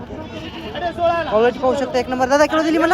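Goats bleat repeatedly at a village goat market, wavering cries rising over loud nearby talk among traders.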